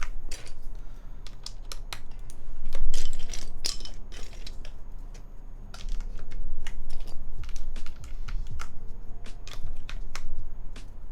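Typing on a computer keyboard fitted with thick Xiaomi keycaps and no numpad, a close, continuous clatter of individual keystrokes with occasional louder presses.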